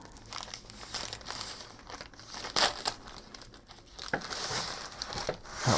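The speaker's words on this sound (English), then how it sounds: "And let's cut the bag open." A plastic mail bag is cut open up close, with irregular bursts of crinkling and tearing plastic, loudest in a few sharp rustles, and no talking.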